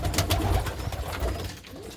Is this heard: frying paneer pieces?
no